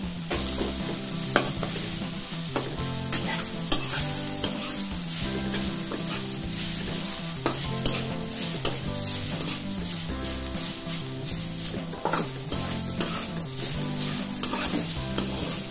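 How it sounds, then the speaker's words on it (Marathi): Grated potato tossed and stirred in a pan with roasted chillies, a constant close sizzle with frequent light scraping ticks of the spoon, steady throughout with no voices. "मी आता हा बटाट्याचा किस टाकणार आहे, त्यामध्ये हा किस परतून घ्यायचा आहे"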